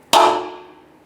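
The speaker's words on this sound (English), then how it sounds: "we're going to dimple this using a punch" A single sharp metallic strike of a hammer on a punch dimpling metal on a 2005-2010 Chrysler 300 front impact bar rings out and decays over about a second, close and loud.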